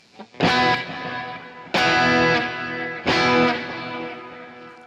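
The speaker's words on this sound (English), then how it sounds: "on this setting, you can hear it kind of, when it echoes back and forth, there's a little bit of a chorus that happens on it." Electric guitar through a delay effect with a slight chorus shimmer, three distorted strummed chords each ringing out and repeating as echoes, loud and close with no talking.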